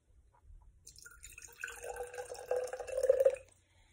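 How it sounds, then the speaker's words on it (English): Water pours into an empty cup for a lava lamp experiment, a soft trickle that builds into a clearer, louder splash over a few seconds, then stops, heard alone and fairly close. "we're gonna add a little bit of water first"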